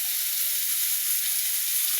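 Bitter gourd frying in a pan, a close, steady bright sizzle with even hiss and no pauses or voices.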